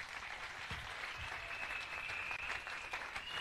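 A church congregation applauds, with dense steady clapping at a faint, distant level throughout.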